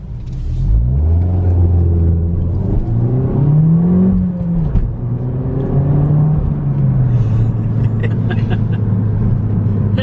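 A Peugeot 208 GTI's turbocharged engine revs up hard as the car accelerates. The loud, close pitch climbs steadily, peaks, dips briefly, then holds a high, steady drone.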